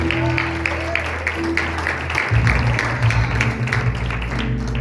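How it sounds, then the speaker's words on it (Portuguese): A church congregation applauds amid worship, steady clapping mixed with strong low musical tones and background voices throughout. "Aplaude o nome do Senhor Jesus"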